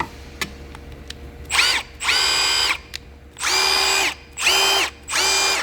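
A Milwaukee M12 Stubby cordless impact wrench runs in four or five whirring bursts of a couple of seconds each, close up, with short pauses between them.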